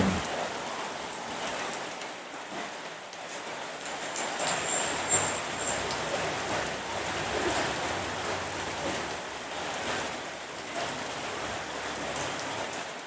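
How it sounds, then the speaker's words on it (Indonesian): Heavy rain pours steadily on an Indonesian trip from Manggarupi to Samata, a constant dense hiss of falling water with faint traffic underneath and no voices. "dan hujan cukup deras"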